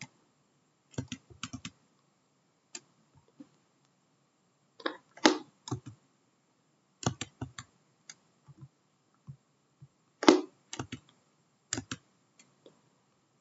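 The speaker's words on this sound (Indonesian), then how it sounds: "Nah, setelah begini kita ketikkan aplikasi kasir" Computer keyboard keys clatter in short, scattered bursts as an application name for a supermarket cashier database is typed, with quiet pauses between the runs of clicks and no voices.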